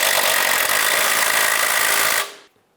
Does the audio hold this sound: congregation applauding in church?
no